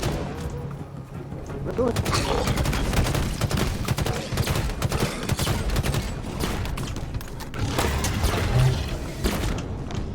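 Rapid gunfire from Halo Infinite rattles in dense, continuous bursts with booming thuds mixed in, loud throughout, while a voice talks over the shooting.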